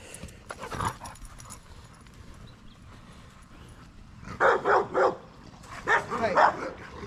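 A Rottweiler dog barks several times in quick bursts, loud and fairly close, after a stretch of quieter background noise, with a muffled earlier bark near the start.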